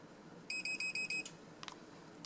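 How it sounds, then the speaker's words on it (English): A long-range dog training collar remote pairing with its collar gives five evenly spaced electronic beeps, clear and fairly close, followed by a few faint clicks and a short sharp sound at the end. "that beeping noise lets me know that it's paired"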